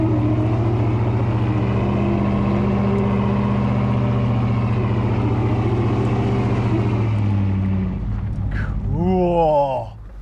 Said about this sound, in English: Fun to just see, listen to the tire do its work.